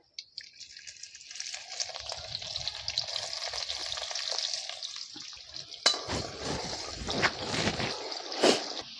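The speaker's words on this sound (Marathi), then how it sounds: "कढईत तेल घातले आता आपण कांदा घालू" Onion frying in oil in a kadhai gives a steady, loud close-up sizzle with a crackling hiss, growing busier and spattering after a stir partway through, with no voices.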